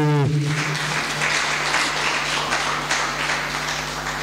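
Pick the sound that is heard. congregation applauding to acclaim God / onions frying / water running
congregation applauding to acclaim God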